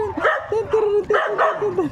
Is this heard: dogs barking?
yes